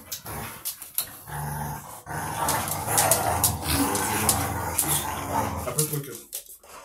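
Two dogs growl low and continuously at close range, the rumbling rising and falling over several seconds with short huffs, while a person talks at the same time.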